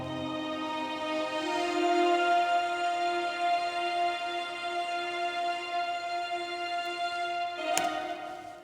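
Recorded strings play back in a reverberant room, sustained bowed tones holding steady with a rich ring of reverb, one brief brighter accent near the end.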